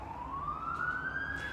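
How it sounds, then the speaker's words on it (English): A single wailing emergency siren on a New York City street, one long rising tone that is fairly clear but somewhat distant, over a low traffic rumble, with no talk. "that's why you hear the sirens"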